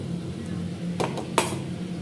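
A spoon scraping and clinking against a vessel while powdered spices are mixed into vathal pickle, two or three short metallic strokes over a quiet low hum.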